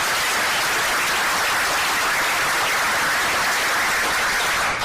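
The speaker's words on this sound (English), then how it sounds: "so give ourselves a round of applause" A large audience of about 122 people at a support group meeting applauds together, a dense, steady wash of clapping that holds at full strength throughout without talk over it.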